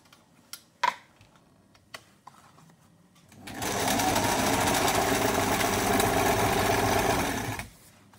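A sewing machine stitching a long gown runs in one steady, close burst for about four seconds, after a few quiet clicks and handling sounds; no talking is heard.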